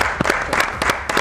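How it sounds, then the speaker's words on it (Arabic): An audience claps in quick rhythmic bursts throughout, close and fairly loud, with no speech over it. "صفقوا يا جماعه"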